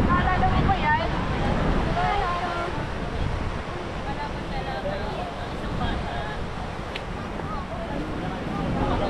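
Sea waves wash steadily onto a sandy beach, a continuous rushing surf with wind buffeting the microphone throughout.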